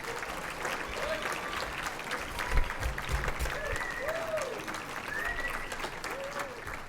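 Steady applause from an audience at a dental school celebration event, dense clapping throughout, with faint voices and a few whistle-like tones rising over it.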